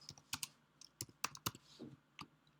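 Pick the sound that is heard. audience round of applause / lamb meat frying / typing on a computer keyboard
typing on a computer keyboard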